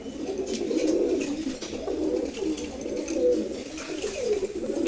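A pair of racing pigeons coos continuously up close, with soft rolling calls rising and falling in waves and no talking.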